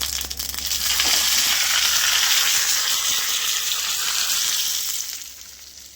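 Mustard seeds and urad dal crackle and sizzle loudly in hot oil for tempering, a dense continuous frying hiss that fades a little near the end.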